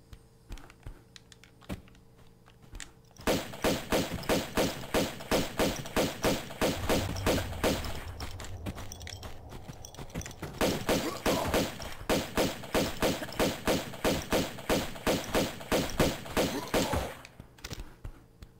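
Rapid, regular pistol fire in Tomb Raider II Remastered, a long run of sharp repeated shots in steady rhythm with a brief pause midway, preceded by a few scattered clicks and thumps.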